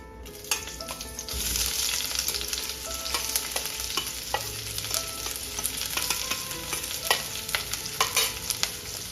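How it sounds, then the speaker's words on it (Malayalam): Onion, curry leaves, garlic, sliced ginger and green chilies sautéing in a pan for chicken stew make a steady, moderately loud sizzle, with repeated scraping and stirring clicks from a utensil throughout. "ഇതെല്ലാം ഒന്ന് വഴറ്റണം ഉള്ളിയൊക്കെ ഒന്ന് സോഫ്റ്റായി വന്നാൽ മതി"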